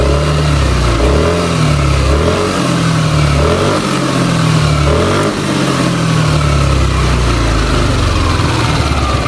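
A Yamaha Aerox scooter engine with worn rocker arm bearings is revved repeatedly up close. Its loud, rough mid-pitched roar rises and falls in several throttle blips over a constant idle.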